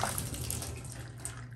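Hot water poured down a bathtub drain while unclogging it with baking soda and white vinegar, a steady close splashing gush lasting the whole moment.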